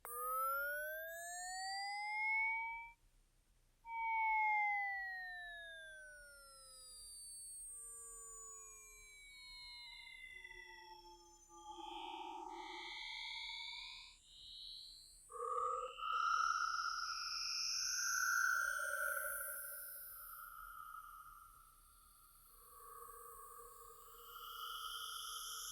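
A slowly modulated saw-wave synth pad for techno drifts through long gliding notes that bend and sweep, shifting into brighter, buzzier tones halfway through, quiet and sustained with no voices.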